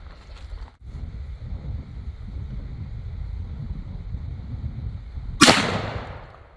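A single sharp, loud shot from a Marlin lever-action .44 Magnum rifle fired at a coconut outdoors, cracking near the end over steady wind rumble.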